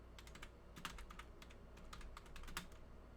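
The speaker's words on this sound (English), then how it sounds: "So if I type in Spider-Man" Soft bursts of typing on a computer keyboard, quick clustered keystrokes entering a search, faint over steady low room hum.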